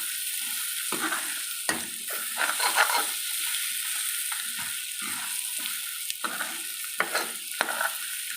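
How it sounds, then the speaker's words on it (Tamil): Ingredients for egg curry sautéing in a pan, a faint steady sizzle with intermittent scraping stirs, heard close and alone. "இது வதங்குற வரைக்கும் நமக்கு கண்டிப்பாக டைம் கொடுத்து தான் ஆகணும்."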